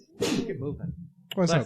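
A single sharp sneeze bursts out close by, followed by a short voiced tail, and spoken words come right after it.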